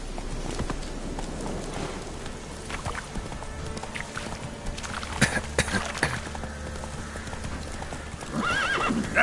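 Roach, a horse in The Witcher 3 video game, gallops with steady clip-clop hoofbeats over a busy game soundscape, and a whinny rises near the end.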